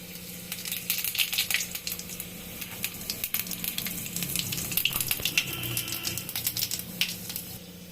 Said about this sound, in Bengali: এখন এই অবস্থায় আমি রসুন কুচিটা দিব, তারপর দিব গোটা জিরাটা